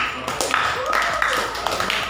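A classroom audience of physics students claps for a short moment, scattered hand claps under a steady murmur of voices, moderately close and fairly loud.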